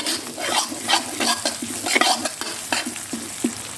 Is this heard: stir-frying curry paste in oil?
yes